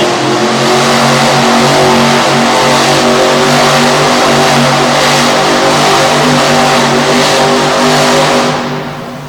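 Loud, sustained monster truck engine revving in an indoor arena at a Harrisburg, Pennsylvania show, a constant close roar with a deep harmonic drone that holds steady for nine seconds before easing off at the end.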